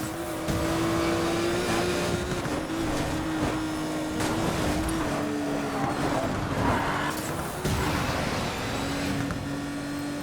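A Porsche 911 RSR races a lap in the video game Need for Speed Payback, its engine a sustained, high-revving drone with shifting pitch and tire noise, loud and continuous with no talking.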